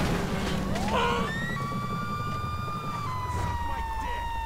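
In the video game GTA, wailing police sirens rise and sweep in pitch, one after another, over a steady engine rumble, moderately loud and close.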